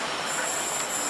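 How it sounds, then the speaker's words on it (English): A train at Rochester station gives a steady, loud broadband rumble with wheel noise and a high metallic squeal held throughout, close by and with no talking. "it seems like the train just got off"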